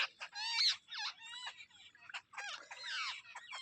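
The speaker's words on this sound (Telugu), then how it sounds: "తినిపించమని అది పక్షి అడుగుతుంది" Birds make a run of shrill, rapid chirps and squawky cries close by, calling to be fed in quick bursts with short gaps between them.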